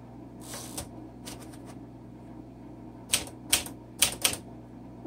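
Keystrokes on a 1951 Smith Corona Silent manual typewriter: a few scattered strikes, then a quick cluster of four sharp, close, fairly loud clacks over a steady low room hum, with no talking.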